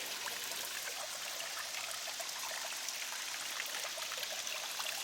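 Water trickles steadily into a small pond on an outdoor mini golf course, a continuous close splashing and dribbling with no pauses.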